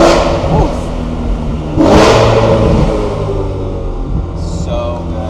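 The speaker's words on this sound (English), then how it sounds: "when you're revving it, downshift in here, watch this" A BMW E92 M3 engine revs loudly and close up, rising in a sharp blip midway as the driver downshifts, with road and wind noise throughout.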